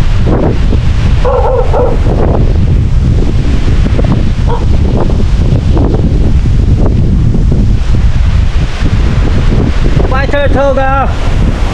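Strong typhoon wind during a Signal No. 1 storm in Bohol roars through front-yard trees as a loud, constant rush buffeting the microphone, with a dog barking at moments and a voice speaking briefly.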